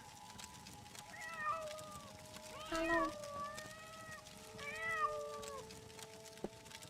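Meows from a pet cat in Morrowind ring out clearly in several short calls over a quiet backdrop, and a single voice speaks briefly among them.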